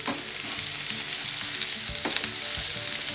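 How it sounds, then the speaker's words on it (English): Garlic and onion sizzle steadily in a little Portuguese olive oil, a dense continuous frying hiss with a few soft stirring knocks near the end. "we use a little bit of oil to fry the garlic and the onion"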